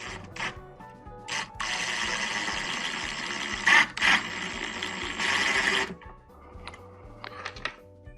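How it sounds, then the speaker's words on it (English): Screws are driven into a model train layout part with a small power driver, giving several short whirring bursts separated by pauses, with light clicks and handling noises in between. "Now I'm going to run these 2 screws in here"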